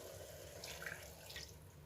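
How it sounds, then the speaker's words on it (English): Water poured into a pot of egusi soup with stockfish and catfish fillet, a faint, soft, continuous trickle and splash close by, with no talking. "And I'll add a little bit of water."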